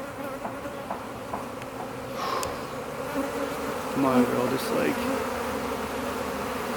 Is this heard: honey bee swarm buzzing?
yes